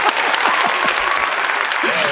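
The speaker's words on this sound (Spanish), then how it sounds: "eso se merece un fuerte aplauso" A burst of loud, dense clapping, close and continuous throughout, with a few faint whistling or squeaky tones sliding over the applause.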